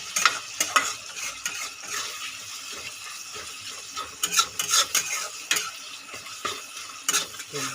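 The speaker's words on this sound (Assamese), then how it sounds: "ফ্ৰাই কৰি থাকিম মিডিয়াম ফ্লেমত" Tomatoes frying in a pan over a medium flame for fish curry, with a steady sizzle punctuated by clinks and scrapes of a spatula stirring against the pan.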